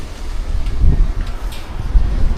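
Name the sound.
strong wind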